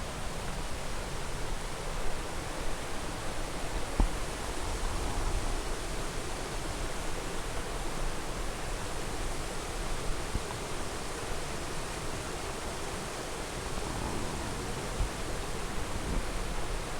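The Tuéjar river rushes steadily in a constant, broad hiss of flowing water, loud and unbroken throughout, with no voices.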